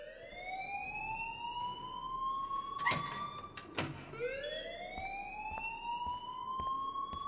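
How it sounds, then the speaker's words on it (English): Fire alarm sounding in the Life Is Strange video game, a loud continuous electronic siren tone sweeping steadily upward with bright harmonics, briefly broken by two sharp bursts of noise before resuming, with no talking. "please turn off that alarm since that's your job"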